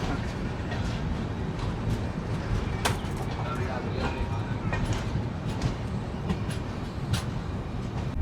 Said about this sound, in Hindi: अभी अपनी ट्रेन निकल रही है काजीपेट जंक्शन से और बगल में ये आ रही है गोलकोंडा एक्सप्रेस।